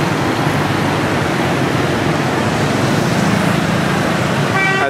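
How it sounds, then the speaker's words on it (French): Car horns toot repeatedly through steady, loud roadway noise in busy Hanoi street traffic around mid-morning, with engines and passing vehicles forming a constant wash. "Et ça klaxonne."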